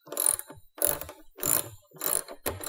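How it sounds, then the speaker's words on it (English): A sign fitting being tightened into place with a 10mm spanner, giving five separate bursts of quick, close ratcheting clicks with short pauses between them. "So we're just tightening this into place,"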